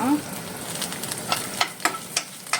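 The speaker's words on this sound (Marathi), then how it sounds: "1 टेबल स्पून ऑयल घेता आनी हो कांदो आहा तो भाजीक पयलें हो रफली चॉप केला तो भाजून घेता" Chopped onion frying in a tablespoon of oil, a steady soft sizzle broken by a few sharp crackles and stirring clicks toward the end, close and alone with no voices.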